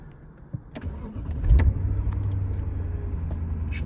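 A 2003 Dinan BMW Z8 fires up close by, its starter catching into a brief rising roar before the engine settles into a steady, loud idle rumble.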